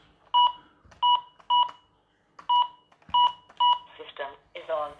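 An alarm system keypad gives a series of short, loud electronic beeps in uneven groups as the alarm is switched on, close by, followed by a brief burst of talking at the end.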